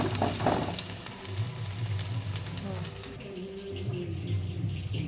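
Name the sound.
chicken frying in oil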